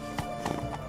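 The horse Roach galloping in The Witcher 3, quick clip-clop hoofbeats in a brisk rhythm over a dense, loud game soundscape, lasting about a second.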